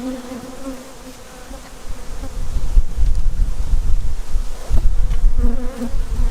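Honey bees from a swarm housed in a poly nuc hive buzz continuously and loudly up close, a dense, steady hum that swells partway through, with no talking.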